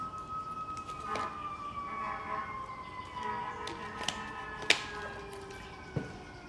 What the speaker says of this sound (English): I'm in New York, so you probably hear these sirens